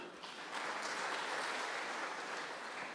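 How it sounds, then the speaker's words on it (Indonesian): Congregation in a church during a Christmas sermon breaks into steady applause, a dense wash of clapping that swells after a brief moment and holds evenly for a few seconds. "Tepuk tangan buat Allah kita."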